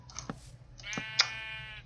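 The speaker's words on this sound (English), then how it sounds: "Nope, it's a sheep in a tree." Minecraft sheep bleats in a game world, a couple of short nasal bleats close by with a brief pause between them, alone without talk.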